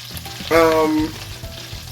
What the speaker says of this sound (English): we're frying this on a medium-high heat